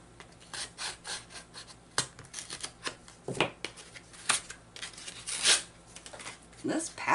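Rasping, scraping rustles and sharp snips as an old plastic package from a garage sale is cut and pulled open, close and fairly loud, with a few louder crackles near the end.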